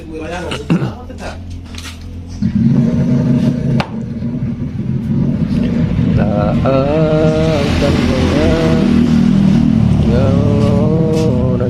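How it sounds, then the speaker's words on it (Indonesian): A Honda Vario 150 motor scooter engine revs hard and holds a loud, steady drone with rising pitch, while someone talks over it; the drive ratio is suspected faulty. "motornya ngebut tuh"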